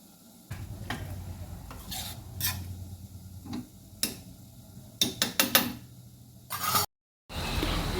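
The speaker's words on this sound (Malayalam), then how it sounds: "ഇനി ഒക്കെ ഒന്ന് നന്നായിട്ട് ഇളക്കി ഉപ്പ് പാകത്തിന് ഇട്ട് കൊടുക്കുക" Spiced biryani-style rice being stirred in a pan, soft scraping and rubbing strokes with occasional sharper taps of the spoon against the pan, irregular and fairly quiet, ending after a brief pause in a louder scrape.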